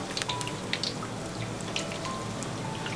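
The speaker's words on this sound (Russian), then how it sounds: "поливаем сверху горячим маслом" Kazakh baursak dough fries in hot oil, giving a continuous, fine crackle and sizzle with scattered pops at a moderate level throughout.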